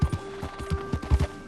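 Galloping horse hooves in Red Dead Redemption 2 Online, a collector horse running with a quick, regular clip-clop of heavy thuds, close and steady with nothing else over it.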